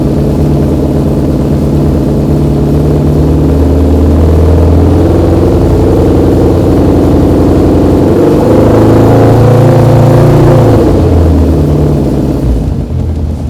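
A motorcycle engine runs loud and close during a carburetor sync, a steady throbbing drone that swells as the throttle is blipped mid-way, then eases back toward idle, with no voices over it.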